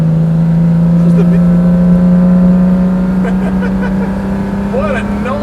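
A Lamborghini LM002 with a carbureted engine drones and revs nearby, a deep steady engine tone with rising pitch sweeps, while people talk briefly over it.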